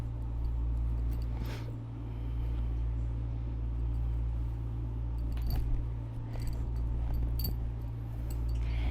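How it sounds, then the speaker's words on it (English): An air conditioner runs steadily in a room where pants are being hemmed, giving a constant low hum and hiss throughout, with a few faint clinks and handling sounds over it. "sorry for the noise of the air conditioner"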